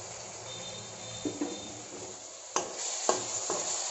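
Chopped onions and tomatoes frying in a pan for a spicy chicken curry: a soft, steady sizzle with a few distinct clinks and scrapes as a utensil stirs against the pan.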